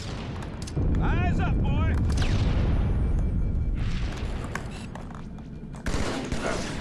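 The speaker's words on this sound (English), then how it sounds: "Grenade! Get the hell out of there!" Grenade explosion in a gunfight: a heavy boom and rumble among rattling gunfire and blasts, loud and sustained, with a voice speaking briefly over the din and a further sharp burst near the end.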